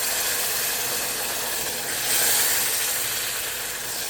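Water hits a hot pan of cumin powder and mixed curry powder, setting off a loud, steady sizzling hiss that swells briefly midway and carries on without letup.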